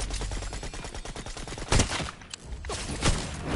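Rapid bursts of gunfire from a player shooting in a video game, dense and continuous with a few heavier blasts standing out, no talking over it.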